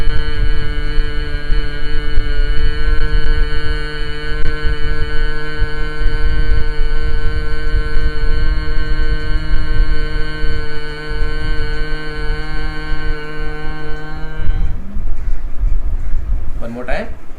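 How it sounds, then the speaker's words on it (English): Someone makes one long, steady, resonant hum while breathing out, with the ears closed by the thumbs in a yoga breathing exercise. It is loud and unbroken for about fourteen seconds, then cuts off. "and make humming sound."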